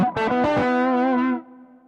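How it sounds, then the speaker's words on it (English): A guitar note played through a Zoom GFX 707 multi-effects unit with a pitch detune effect, a single sustained processed tone with a wavering, chorus-like shimmer that holds steady for over a second and then fades into a quieter tail. "This is a pitch style effect."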